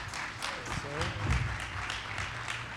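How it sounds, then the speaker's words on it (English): An audience at the Maryland Male Students of Color Summit 2024 gives a short round of applause, scattered claps rising and fading, with voices talking over it. "please give him a round of applause"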